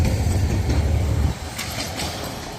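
A Hitachi train, number 4518, moves through Bang Sue station in Bangkok, first with a loud, heavy low rumble, then easing into lighter rail clatter and wheel clicks nearby.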